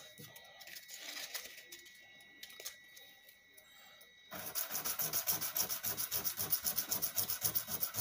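A BC Rich Warlock bass being hand sanded with a sandpaper block, first faint scattered rubbing, then loud, steady back-and-forth strokes in a quick rhythm, heard up close.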